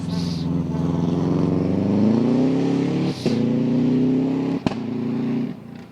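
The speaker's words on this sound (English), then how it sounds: "That pops of the upshifts." A rally car at the Tall Pines Rally 2019 accelerates hard, its engine note rising through the gears, with sharp pops on the upshifts and brief breaks between gears, loud and sustained.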